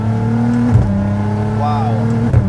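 A turbocharged 650+ hp Nissan GT-R engine holds a steady, strong drone that briefly surges twice, with a rising whine in between, as the car accelerates hard.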